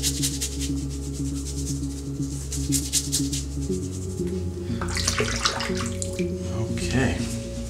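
Tap water runs steadily into a sink while fingertips are wetted for shaving soap, a close, continuous splashing stream with hum-like tones, then shifting into rougher splashing as hands move under it.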